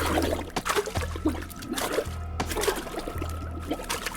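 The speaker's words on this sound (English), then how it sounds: "you'll notice the water level rises when you stick his head in" A guard is drowned in water in Hitman 2, with close splashing, pouring and trickling water sloshing in bursts over a low steady hum.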